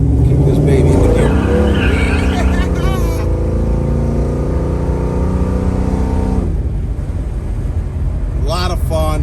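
A 1978 Chevrolet Nova's engine revs loud and close while driving, its pitch climbing and shifting through gears, with a voice talking over it near the end.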